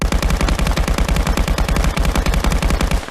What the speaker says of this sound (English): The weapons in Contractors really need better sounds. Suppressed or unsuppressed,